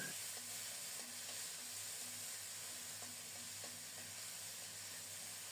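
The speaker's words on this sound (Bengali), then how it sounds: "মশলাগুলো কিছুক্ষণ খুব সুন্দর মতো কষিয়ে নেব, দারুণ একটা ঘ্রাণও বের হবে।" Whole spices sauté in a pan with steady, fairly quiet sizzling and hissing throughout, with a few faint stirring clicks and no voices.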